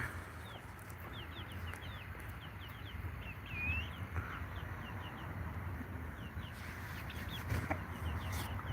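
Happy young backyard chickens cluck in short, scattered calls at moderate distance over a steady outdoor background hum, with bright chirps mixed in throughout.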